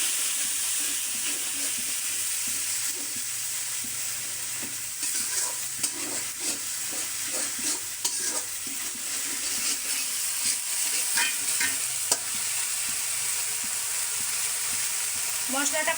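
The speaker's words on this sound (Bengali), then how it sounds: "দিয়ে মশলাটা কিন্তু খুব ভালো করে আগে কষিয়ে নেব" A spice masala with salt and coriander powder fries and is stirred in a pan, with a steady soft sizzle and repeated scraping strokes over about sixteen seconds.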